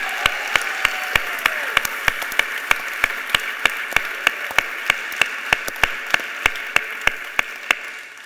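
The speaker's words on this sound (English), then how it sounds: "Give yourselves a round of applause." Audience applause after a sing-along at an evening community conversation event, heard as a steady wash of many hands clapping with sharp individual claps standing out at a brisk, even rhythm throughout.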